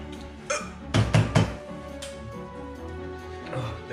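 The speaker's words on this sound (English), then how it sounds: "Oh god, I got the hiccups." Hiccups from a person eating spicy Korean fire ramen: a few sharp, close gulping jolts around one to one and a half seconds, with faint breathing and small movements around them.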